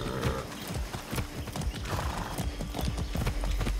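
A horse ridden in the video game Far Cry 6, with brisk, loud clip-clopping hooves in an uneven gallop rhythm and a neigh partway through, heard alone with no talking.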